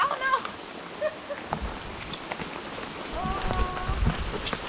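Rain falls during a bike ride along the Oder-Neisse cycle path, a continuous patter and hiss with scattered droplet ticks on surfaces, close and steady, with faint background sounds mixed in.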